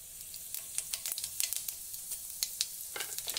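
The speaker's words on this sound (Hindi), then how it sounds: "तो तेल बिल्कुल गर्म हो चुका है, तो हम सबसे पहले जीरा डालेंगे" Cumin seeds sizzle in hot oil in a pan, a steady close frying hiss broken by frequent sharp crackles and pops, with no voices.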